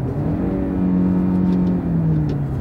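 Toyota Camry engine heard from inside the car as it downshifts in manual mode, a steady close hum with a tone that rises and drops around the quick gear change, no one talking.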